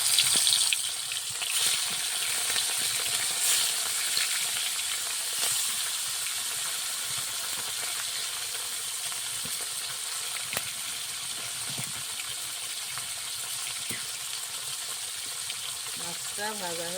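Fish sizzles in hot oil for an elephant-foot yam fish curry, a soft steady frying hiss with occasional crackles and pops. It stays fairly faint throughout.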